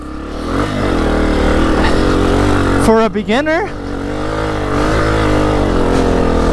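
A 2024 Honda CRF250F trail bike engine drones steadily as it climbs a wooded hill, a low continuous chug with some rise and fall, while a rider speaks briefly over it.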